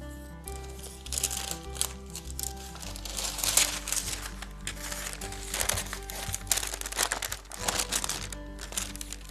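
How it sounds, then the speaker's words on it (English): Parchment paper crinkles and rustles as it is wrapped around a decoupage candle for a heat image transfer, with steady close handling sounds and soft crunches over a faint background hum. "Now I need the parchment paper to wrap all the candle and protect the image while transferring using heat."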